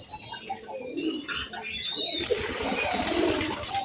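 Pigeons coo softly and irregularly while they feed, with low murmuring calls and faint rustling nearby and a quiet outdoor background.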